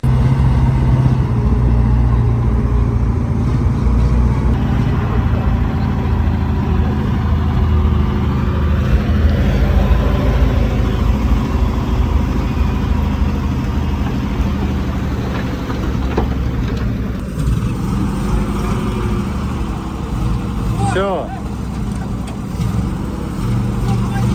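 An old ZIL truck engine runs in a steady, loud, close rumble that barely changes over the stretch, with voices now and then over it.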